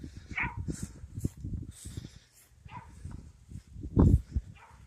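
Dog barking near a 1977 Chevrolet-chassis Coachmen Leprechaun motorhome, several short sharp barks scattered over a few seconds, one louder burst near the end, with faint rustling and no talk.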